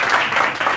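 Audience applause at a rabbi's lecture in Haifa: a brief, loud, steady wash of many hands clapping together, with no voices above it.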